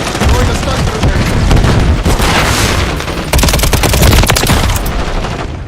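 Heavy gunfire and a bang fill a Call of Duty match as a stun grenade is thrown, a loud, dense barrage of rapid shots and booms with a voice speaking beneath the noise.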